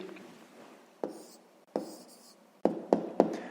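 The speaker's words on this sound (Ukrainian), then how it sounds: "пишемо відповідь" A pen writes an answer by hand on paper, giving soft scratching strokes broken by several sharp taps as it meets the page, close and quiet, with no talk.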